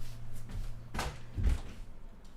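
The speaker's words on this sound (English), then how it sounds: "I'll have to open up this door." A cupboard-style door opens with a short wooden knock and rattle, close by and fairly quiet, over a low steady hum.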